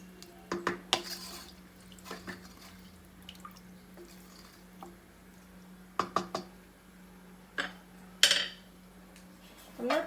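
A metal lid handled on a pot of water heating for Karnataka-style tomato rice, with sharp clanks and knocks scattered among quieter clinks over a faint steady hum, and no talking.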